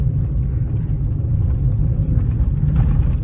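A car on a drive in Kathmandu, Nepal, cruising at sixty with no gear engaged, giving a steady, loud, low engine and road rumble that continues without a break.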